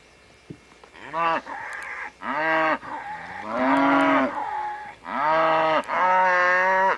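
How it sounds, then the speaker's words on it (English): Several cattle moo loudly on a farm in overlapping, drawn-out calls, one after another, close by with little pause between them. "Sounds like old times hearing all these cattle moo."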